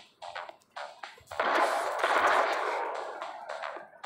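Gunfire in the Jony Trigger video game comes as a few short separate shots followed by a longer dense burst of blasts, then more scattered shots, fairly quiet overall.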